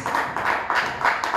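A church congregation applauding, a brief burst of steady, fairly close clapping.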